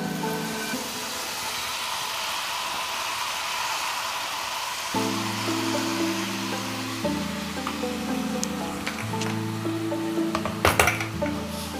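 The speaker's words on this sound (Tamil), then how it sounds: "இப்போ நம்ம பொடியை கட் பண்ணி வச்சுருக்க தக்காளியையும் இது கூட சேர்த்துடலாம்." Chopped tomatoes sautéing in a pan give a steady hiss and sizzle, later joined by a low hum and a few clinks of the utensil against the pan, with no talking.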